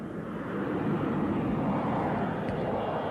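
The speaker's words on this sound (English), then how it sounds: "these planes are flying over all the time" Propeller or jet airplane passing over a drive-in movie theater in Red Oak, Georgia, in 1982, a steady broad engine roar that swells in the first half-second and then holds loud and constant.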